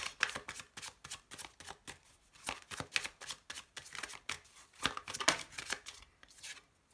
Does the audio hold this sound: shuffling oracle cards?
yes